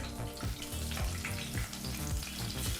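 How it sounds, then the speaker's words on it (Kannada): Cashews and green chilies sizzle in hot oil while being stirred for a hotel-style veg pulao, a steady close crackle with scraping spoon strokes throughout. "ಈಗ ಈ ಎಲ್ಲ ಪದಾರ್ಥನೂ ಒಂದು 30 ಸೆಕೆಂಡ್ಗಳ ಕಾಲ ಎಣ್ಣೆಯಲ್ಲಿ ಬೆರೆಸಿ ಬಿಸಿ ಮಾಡ್ಕೋಬೇಕಾಗತ್ತೆ."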